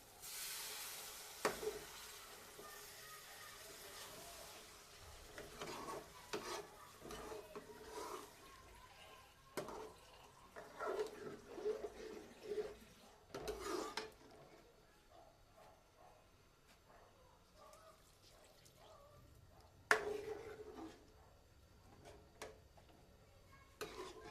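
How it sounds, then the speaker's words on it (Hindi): Water poured into a pot of fried koftas, giving a hissing sizzle with scattered clinks and stirring sounds, moderately quiet and intermittent, with a few sharper bursts. "अब हम इसमें 2 गिलास पानी डालेंगे।"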